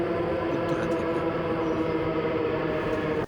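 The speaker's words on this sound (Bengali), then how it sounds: "আমরা দেখতে পাচ্ছি একটা ট্রেন আসছে" A metro train pulls into an elevated platform on Dhaka's Uttara–Motijheel line, its steady loud rumble and rail noise filling the whole stretch without pause.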